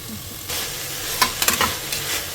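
Fenugreek (methi) leaves frying with onions in a pan, a steady soft sizzle with a few sharper stirring scrapes and crackles partway through, close and alone without talk.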